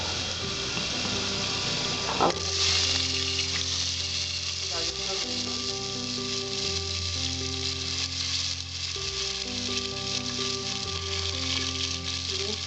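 Chopped vegetables, including cauliflower, sizzle and fry steadily in a pan for a vegetarian dalia khichuri with ginger, a continuous crackling hiss with a brief burst as more goes in, alongside a low steady hum throughout.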